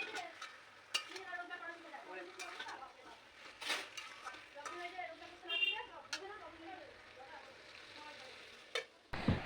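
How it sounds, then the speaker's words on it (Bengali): Chicken fried in spice masala in a pan, sizzling steadily under repeated stirring scrapes and utensil taps, with people talking throughout. "সমস্ত কিছু মশলা দিয়ে কষিয়ে নিয়ে তারপরে চিকেনটাকে ঢেলে দিলাম"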